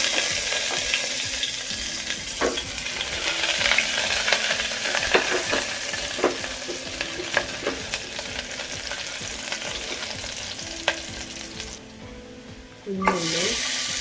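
Ginger and garlic sizzle steadily in hot coconut oil for a raw banana curry cooked chicken-curry style, with scattered spoon taps and scrapes against the pan, then a brief lull and a clunk near the end.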